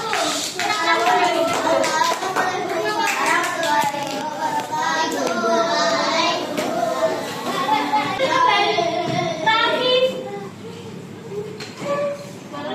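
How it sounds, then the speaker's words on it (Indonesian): Children clap for a group presentation in a primary school classroom, a steady patter of small hands blending with excited young voices chattering throughout. "Beri tepuk tangan untuk presentasi kelompok 1."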